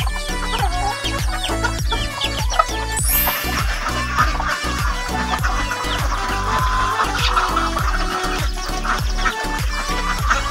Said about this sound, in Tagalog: Ito yung mga native na manok mga katsungtsang.